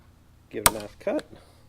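A zip tie cut after being pulled tight around parts on a 2018 Ford Mustang during an IMRC delete: one sharp snip stands out, followed by a brief click, close and quiet, with faint voice around it.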